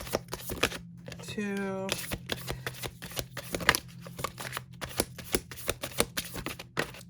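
Tarot cards are shuffled and drawn, giving a quick run of crisp, close paper snaps and flicks, with a soft voice briefly counting between them.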